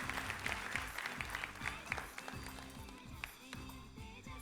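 Audience clapping at a ceremonial lamp lighting during a women's event, a faint, steady patter of many hands with scattered sharper claps over a low rhythmic background.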